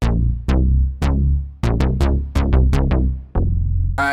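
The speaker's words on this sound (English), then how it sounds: "It's called Jupiter Unison Bass," The Jupiter Unison Bass preset from the Expand plugin plays a run of punchy, decaying bass synth notes in a rhythmic pattern. The notes are loud, upfront and unaccompanied, and a bright chord stab sounds at the end.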